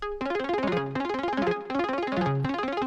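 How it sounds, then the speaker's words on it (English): A fast synth lead melody on a default Serum patch plays rapid staccato notes in repeating phrases, bright and buzzy, steady in level and heard alone without talk. "This is on just like a default Serum lead."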